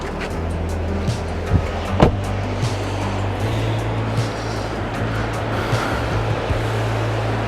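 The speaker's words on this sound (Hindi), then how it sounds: "पानी की आवाज़ आ रही है, पर पानी अभी दिखाई नहीं दे रहा।" Steady rushing water heard at night on a mountain road trip near Jalori Pass, a constant broadband roar with a low hum underneath and a few faint knocks, no voices.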